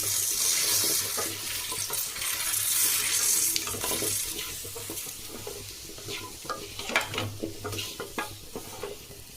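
Sambar spice powder sautés in a pan for Tamil-style sambar, a steady close sizzle with stirring scrapes and clicks that grow more frequent toward the end, no talk over it.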